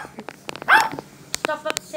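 A dog gives a single short bark in the middle, close by, while a person talks in short bursts around it.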